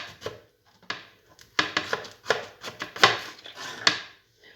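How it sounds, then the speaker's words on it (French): A knife slices through a pineapple on a board, a series of crisp, fibrous cuts and rasping strokes repeated in an uneven rhythm with short pauses between them, close up and with no talking. "on coupe notre ananas en deux"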